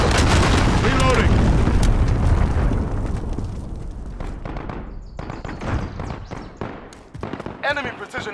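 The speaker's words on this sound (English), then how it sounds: "Allied cruise missile on the way." Cruise missile strike in Call of Duty: Modern Warfare: a loud, heavy explosion opens the clip and decays over a few seconds, followed by scattered sharper pops and bursts of gunfire.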